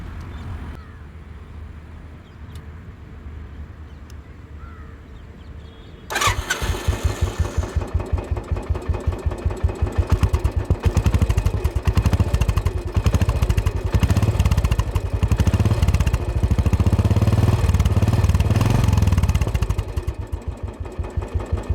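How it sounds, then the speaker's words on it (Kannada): A Royal Enfield Classic 500 motorcycle starts after a quiet stretch and settles into a loud, steady, thumping single-cylinder idle close by that runs on for about fifteen seconds. "ಸೊ ಬನ್ನಿ ಈ ಗಾಡಿ ಸೌಂಡನ್ನ ನಿಮಗೆ ಕೇಳಿಸ್ತೀನಿ ಇವಾಗ."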